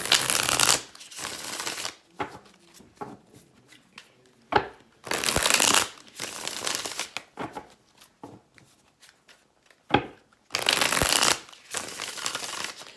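Tarot cards shuffled during a reading, in several loud bursts of riffling that alternate with quieter stretches of soft card handling.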